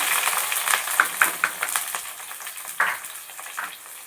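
Steady crackling sizzle of chopped onions frying in hot oil with fenugreek, with a few sharp pops and light clinks of a utensil against the pan.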